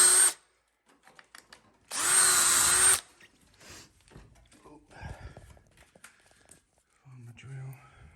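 Power drill whirring in two short, loud bursts while a locksmith fits a night latch, a brief one at the start and a longer one-second run, with someone speaking quietly and soft tool clicks between.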